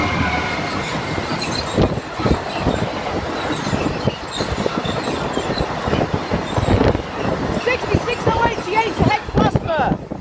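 A Class 66 freight locomotive, 66088, hauls its train past Rowston North level crossing in Lincolnshire. Loud, close wheel clatter and squealing run throughout, with people talking over the passing wagons.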